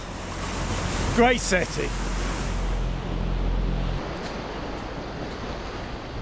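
Waves wash steadily onto the rocky beach at Vieste on Italy's Gargano coast, a constant broad roar with wind, while a person briefly talks over it.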